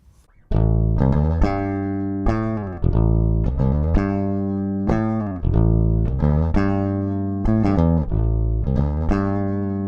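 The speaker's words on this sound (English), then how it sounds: "here's how the bass sounds when it's in passive mode" A warm, rounded Ibanez SRMS625EX bass guitar in passive mode on the neck pickup plays a steady line of sustained plucked notes, close and clear, with no voices.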